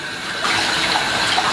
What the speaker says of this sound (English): I'm gonna rinse my beard out now.